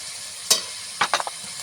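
Mixed vegetables being stirred in a pan of sizzling goat fat with turmeric and salt, with a short scrape followed by a quick run of three or four spoon strokes over a steady frying hiss.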